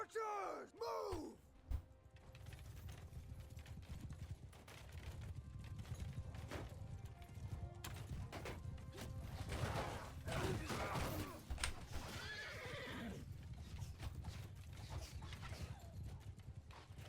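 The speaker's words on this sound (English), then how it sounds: "horse archers are chasing them now" Horse hooves clatter and pound continuously amid chaotic battle noise in the video game Mount and Blade 2: Bannerlord, as horse archers give chase, with occasional whinnies and distant shouts over a low, busy rumble.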